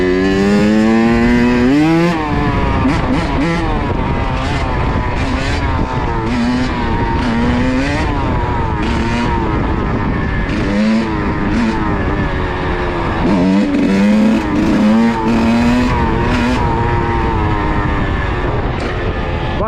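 A motorcycle engine drones steadily and loudly while the bike is ridden in a no-hands wheelie, its pitch rising and falling repeatedly as the throttle shifts, with strong wind noise across the whole stretch.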